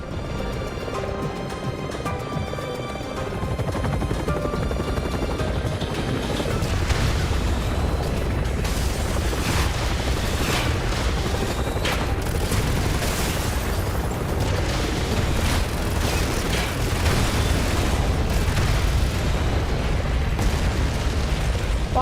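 Missiles launching and exploding in Resident Evil 6 during a Carla boss fight, with repeated booming blasts and mechanical rumble, loud and continuous over game music and effects.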